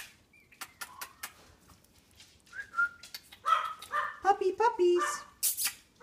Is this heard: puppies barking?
yes